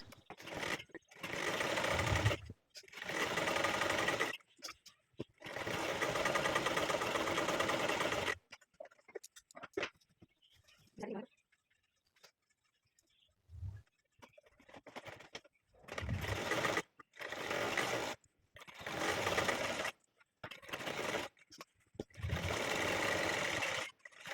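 A sewing machine stitches the seams of a ladies' shirt in repeated bursts of running, broken by short pauses and quiet handling between runs, close and steady.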